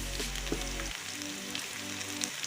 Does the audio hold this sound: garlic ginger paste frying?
yes